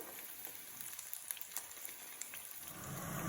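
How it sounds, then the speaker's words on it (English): Salmon fillets frying in a hot pan give off a soft, continuous sizzle with faint crackles and pops, steady and fairly close, swelling slightly louder toward the end, with no voices. "sizzly noise, I know that it's cooking in a nice hot environment"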